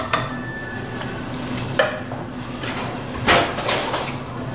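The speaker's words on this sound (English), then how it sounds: "whisk this thing up just for a minute" A whisk stirs thick cheese sauce in a pot, giving a steady scraping and swishing with a few louder clinks against the metal. It sits close and moderately loud against a low kitchen hum.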